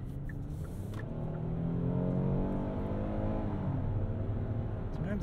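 The V6 engine of a 2022 Hyundai Palisade, a three-row SUV, hums smoothly while driving. A steady low drone rises in pitch a little as the car picks up speed, heard from inside the cabin.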